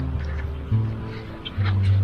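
Ducks or geese call on the Greek island of Schinousa with repeated nasal honks and quacks, fairly close over a low background hum.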